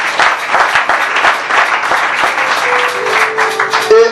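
A church congregation bursts into applause, steady dense clapping filling the room for several seconds, with a voice and a held musical tone rising near the end.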